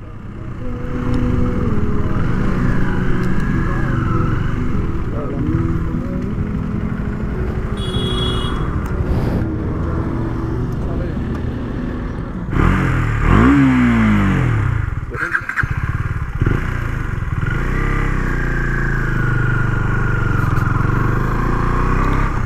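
Motorcycle ride toward Pumdikot near Pokhara, a near, loud engine droning and revving through gear changes with rising and falling pitch, rattling clatter and wind buffeting throughout.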